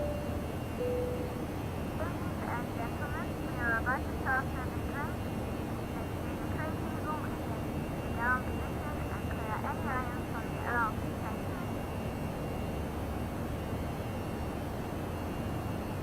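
Simulated Airbus A319 engines in X-Plane 11 hold a steady, loud cabin drone above 10,000 feet, continuous throughout while someone talks over it at length.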